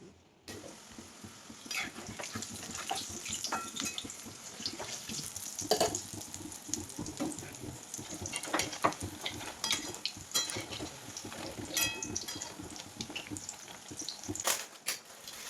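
Vadas fry in plenty of oil in a kadhai and are moved with a spatula, giving a soft bubbling sizzle broken by scattered metallic scrapes and clinks, fairly quiet and close.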